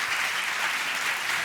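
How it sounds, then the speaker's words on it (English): Audience applause for a speaker named Paul walking to the stage at a domestic abuse awareness event, steady dense clapping filling the hall for a short stretch with no voices over it. "Round of applause for Paul."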